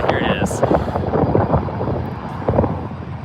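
A Gulfstream private jet at MSP airport rumbles steadily with a broad engine roar and wind buffeting, while a person talks over it.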